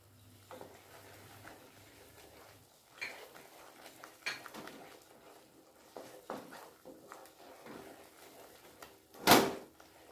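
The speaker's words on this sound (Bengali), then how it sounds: "তেল ছাড়া পর্যন্ত মশলা খুব ভালো করে কষিয়ে নেব" Spices (Kashmiri chili powder, red chili powder and coriander powder) being stirred in an oiled pan for dhaba-style matar paneer, with faint, scattered spatula scrapes and metallic clinks and one sharper clatter near the end.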